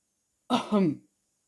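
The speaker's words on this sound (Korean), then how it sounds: "가벼운 기침 소리에" One short, light cough sits alone in near-silence. It is a brief, throaty double burst lasting about half a second.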